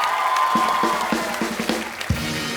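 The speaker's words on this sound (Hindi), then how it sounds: "तो एक बार ऋतिक भाई के डांस के लिए जोरदार तालियां हो जाए।" A studio audience at a comedy talk show breaks into applause, a dense wash of clapping with scattered cheers, while sharp rhythmic beats punch through underneath.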